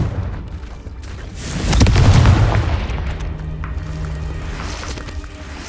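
Confringo blasting spell explosion in Hogwarts Legacy, a single heavy booming blast that swells after a moment of rumbling, then trails off into a lingering low rumble and crackle.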